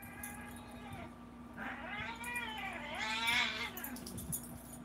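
A cat meows in drawn-out, wavering cries, rising and falling, close by over a steady background hum.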